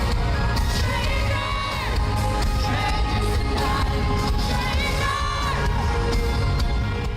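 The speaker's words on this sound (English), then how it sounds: "You're gonna hear my ugly screaming" A crowd of fans screams and cheers continuously at a concert, with shrill whoops and yells rising and falling over a dense, loud roar from start to finish.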